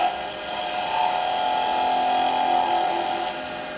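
A wood lathe spinning while a 3/8 spindle gouge rolls a bead, giving a steady close whirring hum with a faint scraping hiss that swells and eases slightly over a few seconds.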